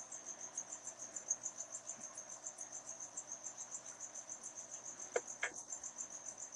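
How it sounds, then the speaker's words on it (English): A cricket chirps in a steady, rapid pulsing trill throughout, fairly faint and close, with a couple of brief sharp clicks near the end and no talking. "And the cricket's back."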